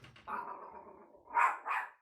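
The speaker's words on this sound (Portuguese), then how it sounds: "Ai, meu cachorro." A pet dog indoors gives a drawn-out whining growl followed by two sharp barks, close and moderately loud, with no talking over it.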